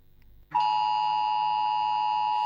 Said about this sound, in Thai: นี่คือเสียงแจ้งเตือนที่เราใช้ทดสอบเตือนภัยผ่านเซลล์บรอดแคสต์